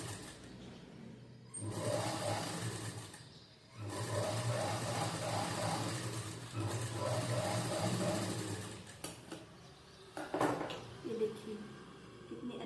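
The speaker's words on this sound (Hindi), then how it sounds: "और यहाँ पे आप सिलाई लगा लीजिए।" A sewing machine runs in steady bursts while stitching the hook strip on a four-tuck blouse, a close mechanical whir that starts and stops, with faint talk and handling noise near the end.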